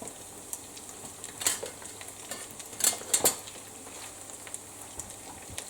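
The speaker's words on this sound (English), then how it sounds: "I'm going to start scooping this sausage out of here while leaving all of that fat" Cooked sausage being lifted out of hot, sizzling fat with a slotted spoon: a constant soft crackle with a few sharper scrapes and clinks of the spoon against the pan.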